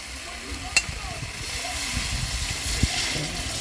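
Water poured into a pan of simmering chicken and potato curry brings a rising hiss and bubbling sizzle, with a couple of sharp clinks of a utensil against the pot.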